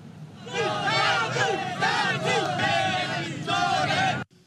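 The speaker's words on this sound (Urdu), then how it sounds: "مشتعل مظاہرین نے کے الیکٹرک آفس کے دروازے بجائے بجلی دو کے نعرے لگائے" Angry protesters chant slogans in rhythmic, shouted unison outside a K-Electric office in North Karachi during a protest over unannounced power cuts, the loud massed voices continuing for several seconds before cutting off abruptly.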